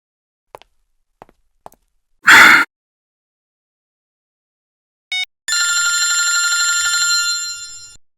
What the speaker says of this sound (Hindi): तारिका जी का फोन।